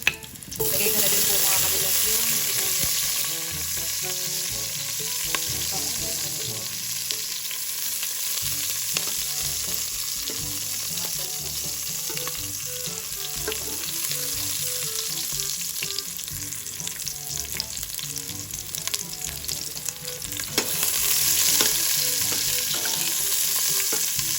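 Aromatics sauté in a hot pan for salmon sinigang, giving a steady, close sizzle and hiss that runs unbroken throughout, with faint stirring and no talk.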